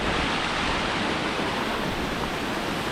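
Waterfall in the Trebuša valley rushing steadily near pools: a loud, continuous, broadband roar of falling water with no pauses.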